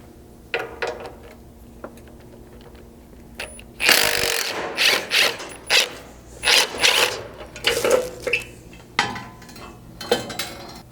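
A 12mm socket with a swivel working the lower cage assembly bolts on a Lexus LX 570, heard as scattered metallic clinks, taps and short ratcheting bursts, some loud and close, in an irregular sequence.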